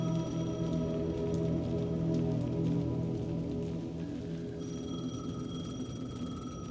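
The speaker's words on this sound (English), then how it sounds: "The payphone was ringing." Payphone ringing amid steady rain in the Alan Wake 2 game world, the rain a constant close patter with bell-like ringing tones running through it.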